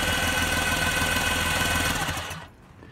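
A flooded Kawasaki 900 jet ski engine, with water inside and spark plugs out, cranks with a steady, rapid mechanical churning. The cranking stays loud and close, then cuts off abruptly near the end.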